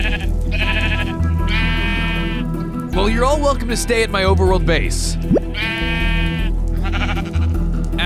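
Sheep in the Minecraft video game bleat several times in drawn-out calls, loud and close, while someone talks over and between them.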